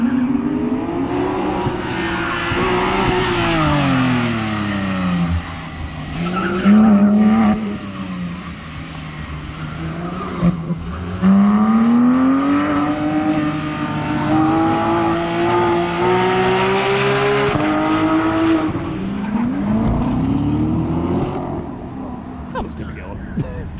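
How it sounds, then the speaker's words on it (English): A race car engine drones and revs through long sustained pulls, pitch rising and falling through the gears, loud and close for the whole stretch with a couple of brief dips. "Race car time."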